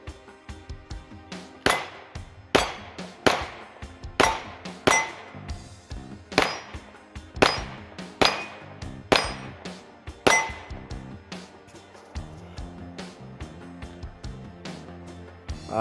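Shots from a 9mm pistol strike steel targets in a quick, irregular string of about a dozen loud, sharp metallic clangs with ringing tails, fading to softer hits toward the end.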